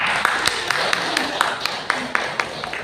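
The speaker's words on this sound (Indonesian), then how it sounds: "Iya, tepuk tangan dulu." An audience of teachers and parents in a school meeting room clap together, a steady patter of hands with distinct sharper claps recurring throughout, fairly close and even in level.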